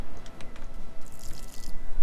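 Water splashes and gurgles out of a portable camping water can in short irregular bursts, close and fairly loud, with drips and sloshing and no talk.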